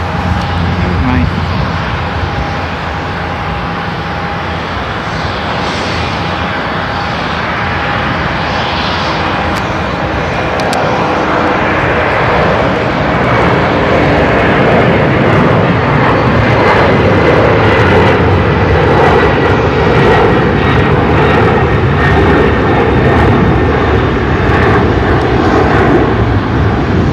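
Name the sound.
Omni Air charter jet passing at Seattle-Tacoma airport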